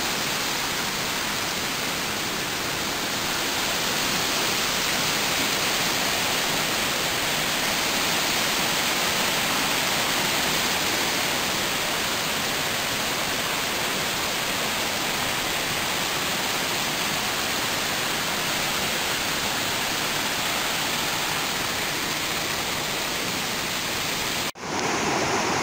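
H'Ly waterfall in Vietnam pours continuously into a rocky stream, a loud, steady broadband roar of rushing water close by, unbroken for the whole stretch and ending abruptly.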